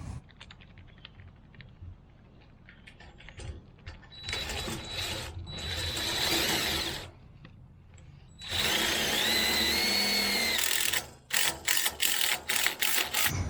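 A power drill drives screws into a gate operator in several long whirring bursts, followed by a quick series of short trigger pulses, with quiet outdoor background between.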